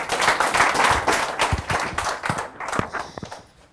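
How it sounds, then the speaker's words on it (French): An audience at a plenary session of a virtual regional parliament applauds for the Democratic Republic of the Congo, a full burst of clapping that thins toward the end into scattered individual claps. "Nous allons applaudir pour la République démocratique du Congo."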